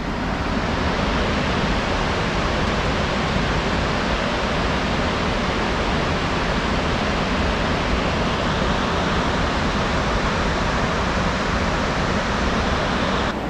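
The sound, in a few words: Cullasaja Falls waterfall, Nantahala National Forest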